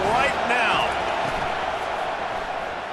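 Stadium crowd in the College Football 25 video game, a loud continuous roar filling the clip at a USC versus Kennesaw State game, with brief vocal sounds near the start.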